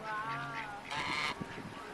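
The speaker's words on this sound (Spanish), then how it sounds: "Sí, esos son gansos." Geese honk at a pond, giving a few short nasal calls close by with soft background noise.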